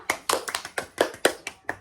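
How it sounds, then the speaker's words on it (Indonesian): A few people in a classroom clap in a short, loose burst of about ten distinct, close handclaps that spread unevenly over under two seconds. "Tepuk tangan dulu untuk kita semua."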